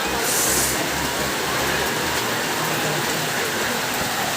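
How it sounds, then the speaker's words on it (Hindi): Heavy rain pours down hard and steadily, a dense, loud hiss with a low drumming underneath and no voices. "बहुत तेज़ बारिश हो रही है"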